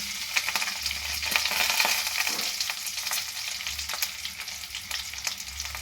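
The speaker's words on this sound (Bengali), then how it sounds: "এবার দিয়ে দিচ্ছি এর মধ্যে গ্রেট করে রাখা আম।" Grated mango goes into a pan of fried curry leaves, bringing a loud close sizzle with stirring scrapes and crackles, steady throughout and without talk.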